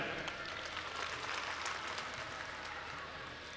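An audience at a mushaira poetry gathering in Amethi claps, a dense burst of many hands that holds steady and then thins slightly, heard close without talk.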